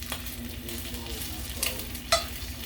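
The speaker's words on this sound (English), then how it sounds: "Finish cooking up my bacon" Bacon frying in a pan at a steady, close crackling sizzle, with a couple of sharp utensil clicks toward the end and no voices.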